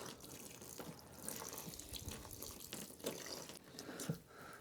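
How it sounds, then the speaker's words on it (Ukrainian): Liquid being poured gradually into flour for homemade bread dough, a soft, quiet trickling and splashing with faint stirring noises, heard alone at low level. "рідину додаємо у муку. Потрошки виливаємо і відразу розмішуємо."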